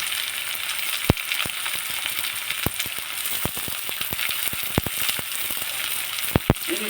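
Chopped dill leaves frying in oil for paddu: a steady soft sizzle with scattered sharp pops and crackles throughout, close and moderately loud, no talking.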